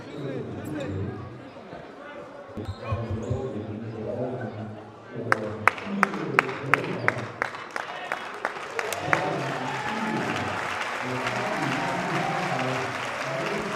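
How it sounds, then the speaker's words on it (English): Crowd at a Prolific Prep versus Ft. Erie Grind Session high school basketball game, with commentators talking over it. Sharp, sparse claps or bounces give way to a broad, sustained wash of applause. "Gotta applaud that kid."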